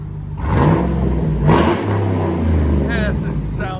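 A 2009 Cadillac Escalade with a 6.2L V8 and a Vibrant race muffler on dual exhaust revs up close in two quick blips with a deep rumble between them, and a voice briefly talks near the end.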